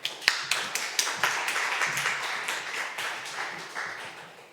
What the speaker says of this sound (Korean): 우리 나오실 때 박수로 환영해 주시기 바랍니다.